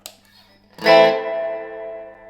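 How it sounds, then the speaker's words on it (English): A single chord strummed on a bright electric guitar through an amplifier's clean channel, middle-to-bridge pickup, ringing out into a long, spacious reverb tail that slowly fades. "I've got clean tone with shed loads of reverb."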